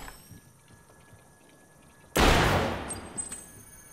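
Apex Legends game gunfire: after a quiet stretch with faint background noise, one sudden loud shot or short burst bursts in and then rings out and fades.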